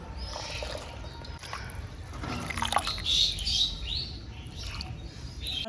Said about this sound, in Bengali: আমি এখন পাতাগুলোকে ভালো করে ধুয়ে নিব।